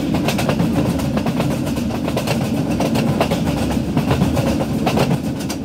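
A passenger train rolls past in Indian Train Simulator with a Vistadome coach and a WDM3D diesel locomotive, giving a steady, loud rumble and a fast rhythmic clickety-clack of wheels on rail joints, heard close throughout.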